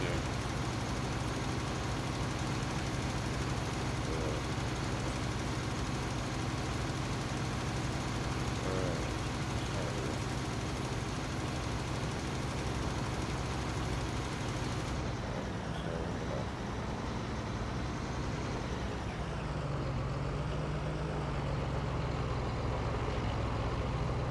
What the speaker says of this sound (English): now we gotta turn the tractor around and the spreader around